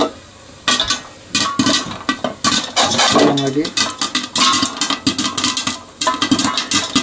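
Popcorn popping in a pan while it is shaken, made for a pet hamster, with a steady stream of sharp pops, clatter and sizzle throughout. A voice speaks briefly over the noise.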